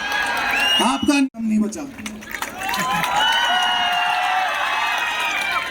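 An audience at an award ceremony claps and cheers steadily, a dense crowd roar with whoops rising after a brief dip, while a host talks over the start.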